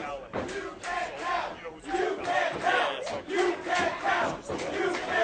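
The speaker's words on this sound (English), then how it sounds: "the chant of "you kicked out" by the crowd is seemingly starting to infuriate" A wrestling crowd at a WrestlePro Shotgun Thursday Night show chants "you kicked out" in loud, rhythmic waves of massed voices, the chant swelling and falling repeatedly across the arena.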